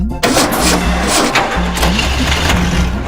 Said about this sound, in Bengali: এবার রোড রোলার স্টার্ট করা যাক।